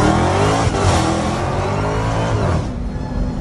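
A Dodge Hellcat engine revs hard and steadily from a played-back recording, a loud continuous roar that eases slightly near the end, with no talking.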